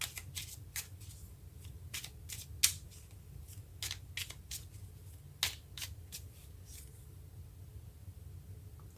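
Tarot cards being shuffled and drawn, soft crisp flicks and snaps at an irregular pace against a low steady hum, close but quiet, with no talking.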